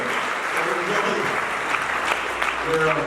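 An audience at a high school band concert applauds the person recording the performance, with steady dense clapping that holds for a few seconds and a voice beginning to talk over it near the end.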